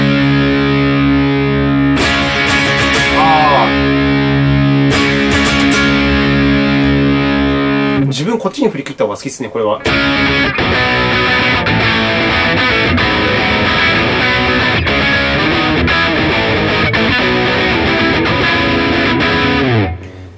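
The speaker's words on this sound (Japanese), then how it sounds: "なんかこれをいじると歪みの性質は変わるんですかね" Electric guitar through an XTOMP mini distortion pedal plays loud, saturated sustained chords and riffs with a brief choppy break mid-way, continuing dense and driven until a sudden stop; a voice speaks briefly over it.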